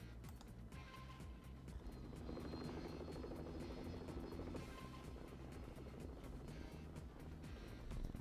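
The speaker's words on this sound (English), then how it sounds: "just keeping his helicopter hovering" Helicopter hovering in the real-time strategy game Act of Aggression: a faint, steady rotor chop with an even pulsing beat runs throughout, low in the mix with no speech.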